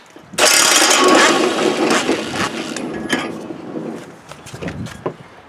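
A 7/8 socket on an impact wrench zips loose a spindle nut on a lawn tractor cutting deck: a loud, close burst of hammering rattle lasting about two seconds, then tapering into lighter clatter.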